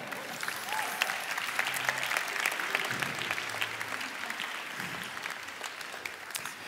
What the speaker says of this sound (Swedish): En stor applåd.